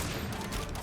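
Light bowgun shots in Monster Hunter, a dense, continuous volley of gunfire with rumbling low end, steady and loud throughout the brief moment.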